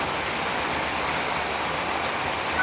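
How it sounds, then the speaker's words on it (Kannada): Moderate, steady rain falls in a village, a constant even hiss of drops on surfaces with no pauses and no voices. "ಸಾಧಾರಣ ಮಳೆ ಅಷ್ಟೆ"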